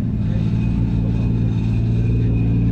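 A Toyota Chaser car pulls away at a car meet with a loud, deep, continuous engine rumble close by, steady in level as it accelerates.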